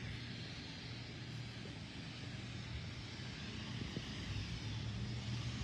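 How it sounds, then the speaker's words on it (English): A low, steady engine rumble drones on throughout, fairly distant and even in loudness. "I'm hearing engine sounds right now, you hear it?"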